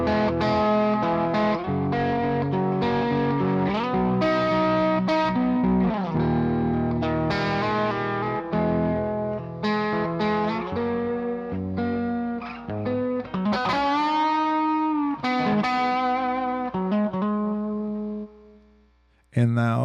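Distorted electric guitar through an amp sim shaped by an Acon Digital match EQ filter, a loud, sustained passage of chords and bends that fades out before a short final hit.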